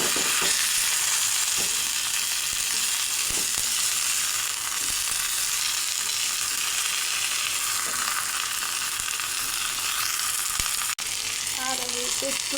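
Carp fish paturi sizzles in oil in a pan over low heat, a steady close crackle and hiss with a few soft clinks near the end.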